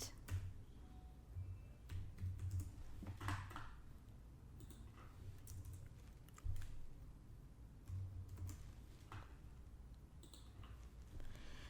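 Quiet clicking of keys on a computer keyboard while entering an employee's name into business software, in irregular short bursts of taps and pauses, close but faint, with no voices.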